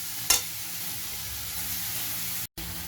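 Tomato sautéing in a pan for mushroom chicken gives a steady, close hiss of frying with one brief clink near the start and a sharp cut-out just before the end.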